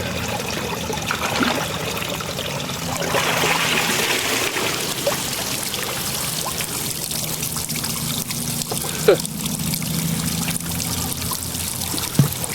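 Water pours and trickles out of a canoe on a winter fishing outing in Florida, a loud, close, continuous splashing that eases into a steadier dribble with a couple of knocks.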